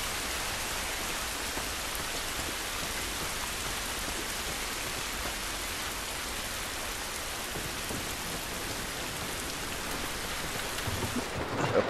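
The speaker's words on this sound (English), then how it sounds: "It's raining" Steady heavy rain with rumbling thunder in The Last of Us Remastered, a dense continuous downpour that stays even throughout, with no talk over it.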